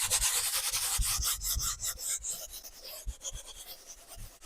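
Fingers rub soft pastel into paper over an orange layer in a steady scratchy, rasping rhythm of repeated strokes, close and fairly loud with no voices.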